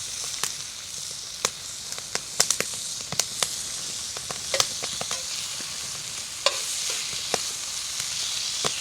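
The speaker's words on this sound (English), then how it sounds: "Most of the time when I cook this stuff, it's outdoors, it's on a stick. It's in a pan like this." Meat sizzles in a pan over an outdoor campfire at a rustic log cabin deer hunting camp, a steady close hiss broken by frequent sharp pops and crackles, with no talking.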